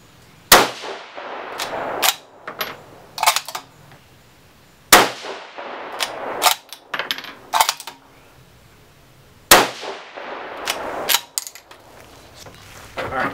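Rifle shots fired with Varget-loaded rounds at an outdoor range, three loud sharp reports spaced several seconds apart, each followed by clanks and clicks of the action being worked.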